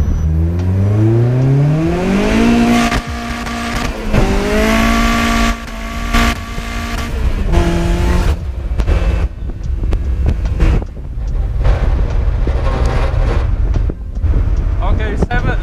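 Turbocharged Mazda Miata running at wide-open throttle with about 12 psi of boost, the engine note climbing steeply through repeated hard pulls in second gear with full wheel spin, loud and close, with wind buffeting over it.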